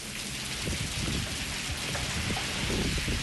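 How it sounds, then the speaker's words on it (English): Heavy rain pouring down steadily during a storm on the south side of Amarillo, a dense continuous hiss with scattered drops drumming close by, loud and unbroken throughout. "We're really getting some heavy rainfall totals"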